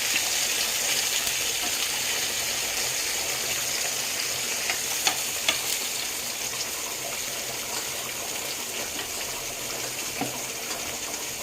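Pieces of salted fish fry in hot oil with a steady, dense sizzle and occasional pops, continuous and fairly close for over eleven seconds, without any talking.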